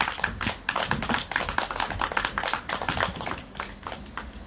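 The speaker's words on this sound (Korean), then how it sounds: "큰 박수로 맞이해주시면 고맙겠습니다." Audience clapping welcomes a singer onto the stage at a community candlelight gathering in Seongju, a dense, steady burst of many hands applauding close by with no talk over it.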